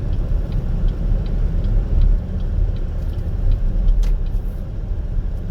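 Steady road rumble from traffic on Interstate 44 in St. Louis during the afternoon rush, heard from inside a moving car with a continuous low drone and faint ticking throughout.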